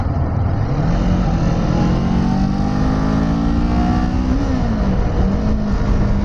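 A Kawasaki Z400 motorcycle engine hums loudly and continuously while being ridden, its pitch rising and falling with throttle changes, with steady wind rush around it.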